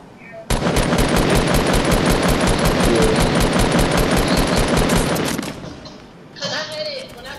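Automatic gunfire blasts in a long, loud, rapid burst during a Fortnite Battle Royale squad match, then stops, leaving a quieter stretch of game sound.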